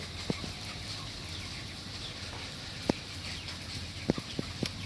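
Chickens packed densely in a crowded poultry house with blowers and automatic feeder lines; a steady mechanical drone fills the space while a few scattered clucks and short calls pop up above it.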